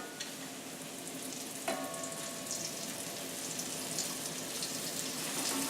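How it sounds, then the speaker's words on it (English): Steady crackling sizzle of battered chicken gizzards shallow frying in hot oil in a pan, continuous and close, with a brief clink partway through. "You put the oil in for shallow frying into your pan."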